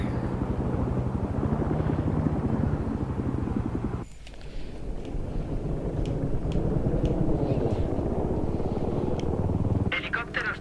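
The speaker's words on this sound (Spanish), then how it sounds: "Helicóptero hostil avistado en vuestra zona de operaciones." A hostile helicopter in the Battlefield 3 multiplayer video game drones with a steady, loud rotor thrum throughout, joined by sharp clanks and a brief shift midway, while a radio voice speaks over it.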